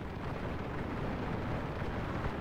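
Brigades open fire in a war video game, their massed volleys blending into a continuous low, rumbling roar that sounds distant and dense, with no speech over it.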